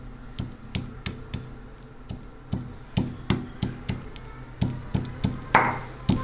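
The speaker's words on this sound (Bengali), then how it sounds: "এখানে কিছু গরুর মাংস এভাবে শিলপাটায় থেতলে নিচ্ছি।" Beef being pounded on a stone grinding slab (shil-pata) while preparing beef jhura: a steady series of sharp, close thuds, roughly two or three per second, with no talking.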